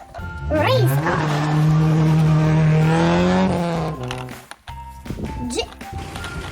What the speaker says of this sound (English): Race car.